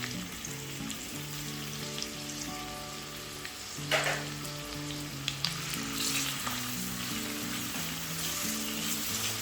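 Onions and green chillies for mushroom biryani fry in a pan with a constant soft sizzle and crackle, and a couple of sharper bursts of spatter or stirring partway through. No one speaks.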